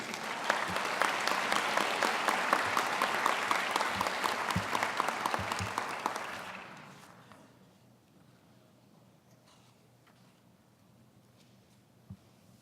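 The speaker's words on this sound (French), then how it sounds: "Applaudissons chaleureusement la cohorte 2019 des diplômés de l'École d'optométrie de l'Université de Montréal" An audience at a university optometry graduation ceremony gives a dense, loud round of applause that holds steadily for about six seconds and then fades into a quiet room, with one sharp knock near the end.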